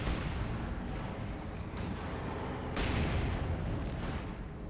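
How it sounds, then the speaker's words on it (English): Muffled booms of German mortar shells being fired and landing in Company of Heroes 2, a dense, continuous rumble of battle noise with two louder bursts standing out, no talk. "German mortar taking shots at these conscripts."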